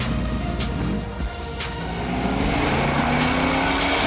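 Diecast toy cars, a 2019 Chevrolet Corvette ZR1 and a 1989 Mazda Savannah RX-7, race down a track with a continuous loud rolling whir and rumble that builds slightly toward the end.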